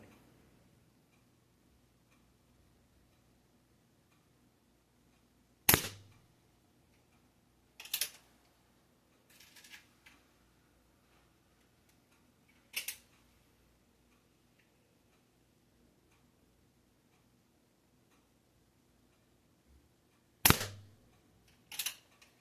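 Shots from an Umarex Ruger Mark IV .177 air pistol fired at a target, five sharp cracks spaced irregularly over about twenty seconds, each crisp and close, with a quiet background between them.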